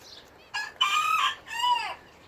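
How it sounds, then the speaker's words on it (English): Hens on a farm in a garden setting give loud, close clucking calls with a crow-like rise and fall, two bursts in quick succession over a quiet background. "We've got a little quail dust bathing down here"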